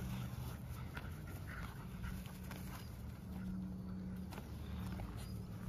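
A dog pup panting and moving about outdoors, quick soft breaths and shuffling under a steady low background hum.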